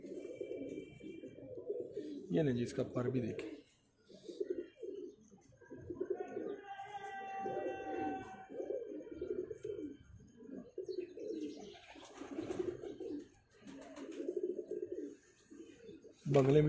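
Pigeons of a prized breed coo repeatedly with soft, low throaty calls, while someone talks close by for most of the time and a few faint chirps come through.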